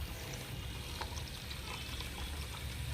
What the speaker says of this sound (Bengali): আমি যেন এখন এটা দিয়ে জল দিচ্ছি